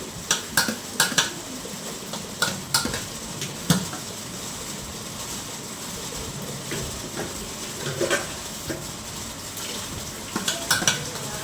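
Dishes, pots and pans being washed at home in the morning, with scattered clinks and clatters of metal vessels knocked together over running water, a steady busy rhythm at close range and no talking.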